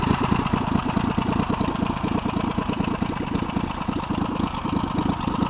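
A 2008 Mudbudd HD 6000 mud motor runs at a steady idle, heard up close. Its rough, throbbing chug holds even and loud the whole time, with no other sound breaking through.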